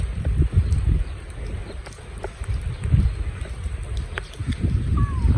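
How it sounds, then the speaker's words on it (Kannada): Gusty wind rumbles and buffets the microphone on a rainy morning in Muscat, low and continuous, with occasional faint clicks and a brief distant tone. "ಹಾ ಗಾಳಿ ಬರ್ತಾ ಉಂಟು ಒಳ್ಳೆ."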